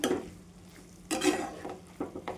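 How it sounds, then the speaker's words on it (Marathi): Onions sautéing in a pan for a spicy onion bhaji, with three bursts of spatula scraping and stirring over a faint background sizzle. "आता कांदे टाकून घेऊ आपण. परतून घेऊत आपण. छान परतून घ्यायचं"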